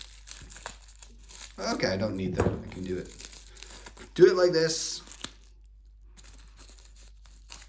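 Scissors cut and crinkle the plastic wrapper of a Magic: The Gathering proxy card pack. Close crumpling and tearing come in two bursts, with a person talking over them.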